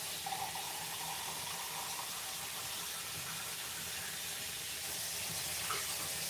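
Hot water runs steadily from a kitchen sink tap into a canning jar, a continuous close hiss and splash that holds level throughout with no talk.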